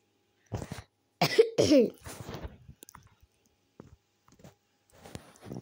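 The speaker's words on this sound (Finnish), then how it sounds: "Mua yskittää." A child's coughs come in a short loud burst near the start, followed by fainter throat noises and small clicks in an otherwise quiet indoor space, with a brief rustle at the end.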